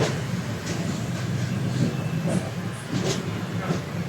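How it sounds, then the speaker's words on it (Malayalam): A train arriving at Kozhikode railway station gives a steady, close rumble with a hissing wash and faint clicks running throughout. "കോഴിക്കോട് റെയിൽവേ എത്തി. റെയിൽവേ സ്റ്റേഷനിൽ ഇറങ്ങുകയാണ്. ട്രെയിൻ ഇറങ്ങുകയാണ്."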